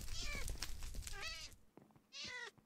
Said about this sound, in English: Did you just light that cat on fire?